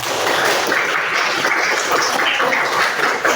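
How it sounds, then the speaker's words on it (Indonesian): Dense, steady applause from a group gathered for a presentation session, filling the whole stretch at an even, fairly loud level without clear speech over it. "Tepuk tangan untuk kita semua."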